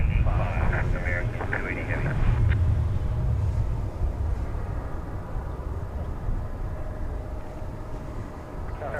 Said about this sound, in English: We'll give you a little taste of this 767 as it taxis close to us.